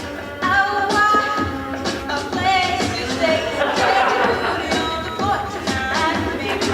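An audience chatters in a room, many overlapping voices murmuring and calling out at once, with a few scattered taps, at moderate volume throughout.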